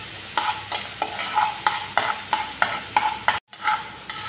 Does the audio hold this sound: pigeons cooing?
no